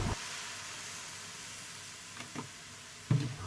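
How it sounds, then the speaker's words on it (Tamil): Food frying golden brown in a pan, with milk then poured in: a steady, soft sizzle and hiss runs throughout, broken by a few brief clinks and a louder splash-like burst of added liquid near the end. "ஒரு நல்ல கோல்டன் ப்ரௌன் ஆனோடனே நான் கொஞ்சம் பால் ஊற்றிக்கிட்டேன்"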